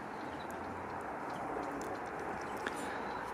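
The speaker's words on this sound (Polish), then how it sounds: "Gołębie wypuszczone do lotu stopniowo nabierają wysokości." Pigeons coo faintly and softly in the distance, barely above a steady background hiss, while the birds are released to fly outdoors.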